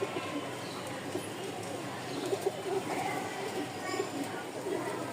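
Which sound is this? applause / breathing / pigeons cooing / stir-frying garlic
pigeons cooing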